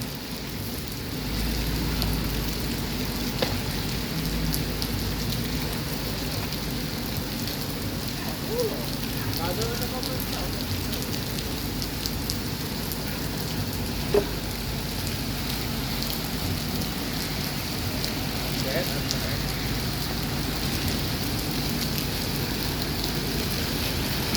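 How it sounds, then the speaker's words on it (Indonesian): Steady rain pours down at the Alang-Alang Lebar bus terminal, a constant hiss of drops on hard surfaces, with faint distant rumbles beneath it. "Lagi hujan di terminal Alang-Alang Lebar. Kondisi terkini lagi hujan di terminal."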